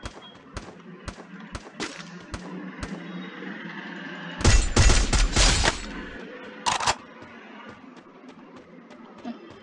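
Rapid gunfire in a PC shooter game: a string of sharp, evenly spaced shots, then a dense loud burst of automatic fire and a second short burst, with quieter action sounds around them.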